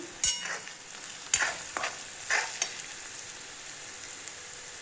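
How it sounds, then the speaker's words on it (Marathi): Garlic-coriander paste and spices fry in oil for chana masala, with a soft sizzle broken by a few distinct spatula scrapes and stirs in the first half. "घेऊयात आता टाकून सर्व मसाले छान तेलामध्ये घेऊयात मिक्स करून।"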